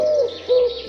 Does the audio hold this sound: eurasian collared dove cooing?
yes